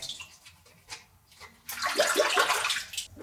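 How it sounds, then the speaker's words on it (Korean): Spring cabbage leaves being rubbed and washed in a bowl of water to loosen soil from the stem ends, with quiet handling at first and then a loud burst of splashing and sloshing that runs for over a second. "볼에 담아 줄기 끝부분에 흙이 많아서 세심하게 문질러 씻어주고"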